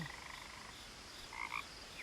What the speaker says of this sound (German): Das ist ein blöder Frosch, der quakt mich dazu